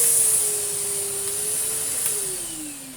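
A Numatic Hetty vacuum cleaner motor runs steadily and close by, a loud continuous whine whose pitch holds and then dips toward the end as the drone carries on alone.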